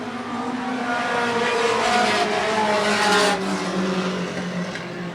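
Race cars run four wide down the backstretch of a dirt track at an Outlaw Mini event, engines roaring loud and close in a sustained, rising and falling drone with no talk.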